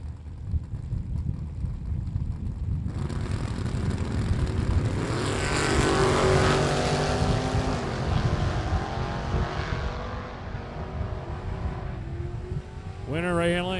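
Pickup truck and Ford Mustang drag racing down the strip at a shootout event, engines roaring loudly as they launch and pass, the sound swelling and sweeping by over several seconds.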